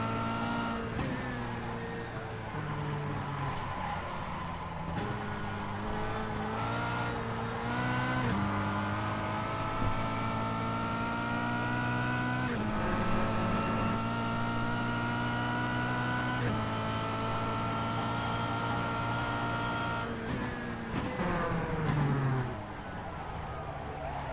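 A Kia race car laps Phillip Island circuit, its engine droning loud and steady from inside the car, pitch rising and falling through gear changes and throttle lifts, with a voice talking over it.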